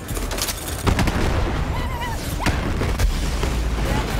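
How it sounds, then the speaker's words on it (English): Dense, busy game combat in Borderlands 3 with repeated booms and blasts, several sharp bursts near one, two and a half, and three seconds over continuous rumbling noise. "so many explosions"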